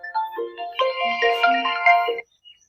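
A mobile phone rings with an incoming call, a loud, close melodic ringtone of bright stepping tones that plays for about two seconds and then stops, with no talking over it.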